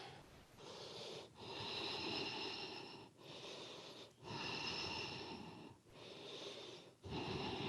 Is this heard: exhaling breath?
yes